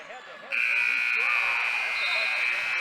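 A loud, steady electronic buzzer sounds at the end of a quarter in a high school basketball game, cutting in sharply over crowd noise and a talking announcer and holding on.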